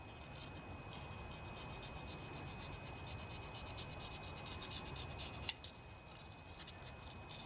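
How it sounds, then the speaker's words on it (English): Sandpaper rubs a carbon ring off the cylinder wall of a vintage 8 hp Briggs and Stratton riding mower engine, a quiet, close, rapid back-and-forth scratchy rasp repeating in steady strokes, with a small knock near the end. "So you'll want to lightly sand off this carbon ring in here."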